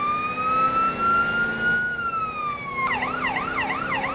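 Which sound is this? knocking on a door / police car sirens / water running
police car sirens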